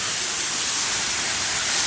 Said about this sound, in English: I get my hose and I spray away from the components, and I'll get everything nice and wet.